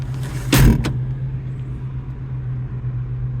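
A 1982 Saab 900 Turbo engine, a barn find with a suspected stuck-open thermostat, idles with a steady low hum, broken by a brief louder burst near the start, with no talking.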